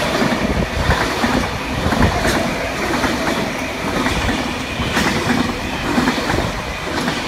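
A V-set passenger train rocks past at Burwood, filling the whole stretch with loud, steady rumble and rhythmic clickety-clack of wheels over rail joints. A faint squeal and rattling carriages sit on top, with no talking.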